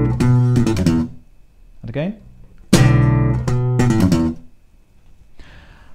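Very fast 32nd-note slap bass runs from a song, played with a double-thumbing technique, come in two loud, close bursts, with a brief spoken remark between them.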